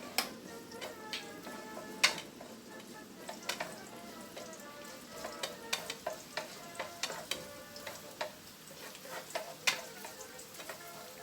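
Garlic sautéing in cooking oil in a preheated pan for chopsuey, a soft steady sizzle broken by frequent sharp clicks and taps of a utensil stirring against the pan, with no talking.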